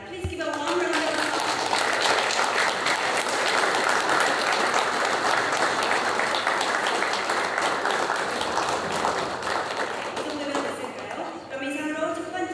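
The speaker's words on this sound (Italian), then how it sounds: "Please give a warm round of applause." Applause at a state visit photo session, a dense, loud burst of clapping from a group that holds steady for several seconds, then fades, with voices at the edges.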